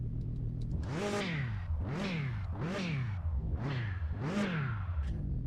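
A turbocharged beater car with a welded differential revs hard five times in a steady rhythm, each loud, close rev climbing and falling back, with no talk over it.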